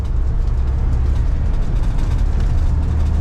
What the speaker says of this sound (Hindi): और बहुत ज्यादा आवाज कर रही है गाड़ी।